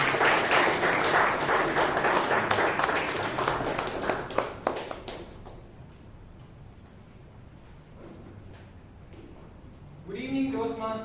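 A Toastmasters meeting audience in Bangalore claps for the next speaker, loud dense applause for about five seconds that thins out and fades, followed by a voice beginning to speak at the end.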